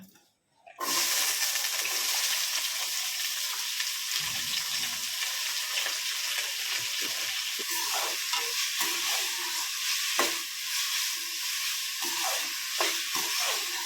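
A tadka of tomato, onion and potato hits hot oil after a brief quiet and becomes a loud, continuous sizzle with occasional stirring clatter, close up, with faint talk underneath.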